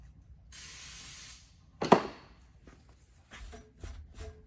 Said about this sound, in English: I'll clean it off real quick with some brake clean